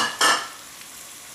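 Potatoes sauté in a pan with Italian seasoning, a short burst of sizzle and a stirring scrape near the start, then a quieter steady frying hiss.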